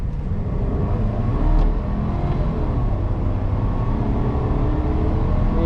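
A Chevrolet Silverado Custom Trail Boss 4x4 pickup with a big V8 accelerating, heard from inside the cab as a loud, steady low engine drone with a brief surge partway through, no talking.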